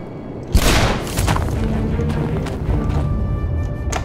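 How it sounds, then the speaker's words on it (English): An explosive turret blast in the Shadow Warrior video game: one loud, sudden boom followed by a long rumbling decay with lingering game tones. "Oh, well, that's an explosive turret"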